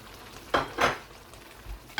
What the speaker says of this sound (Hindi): इसको मिक्स करूँगा अच्छी तरह।